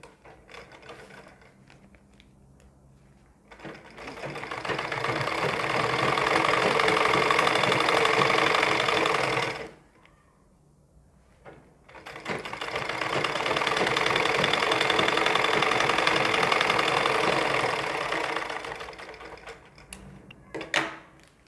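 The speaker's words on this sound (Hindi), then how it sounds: "उसी सिलाई के ऊपर हमें सिलाई को लगाना है" Sewing machine stitching over a newspaper pattern for a ladies' suit sleeve: two long, steady mechanical runs of rapid rattling stitches separated by a short quiet pause, fairly close.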